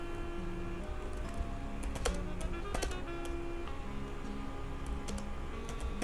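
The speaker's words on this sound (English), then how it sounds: "type the email address" Keys tapped on a computer keyboard while entering an email address, scattered light clicks in an uneven rhythm over a steady background hum, close and fairly quiet.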